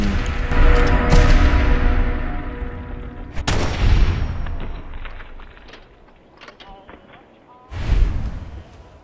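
Gunfire in the video game Fallout 4 during a firefight at Covenant: loud, dense bursts of shots and heavy booms, with a sharp blast early on and another burst near the end, set against a busy background.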